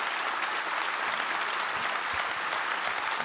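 A theater audience at a conference gives sustained, dense applause for a former French president, loud and even throughout with a few sharper claps standing out.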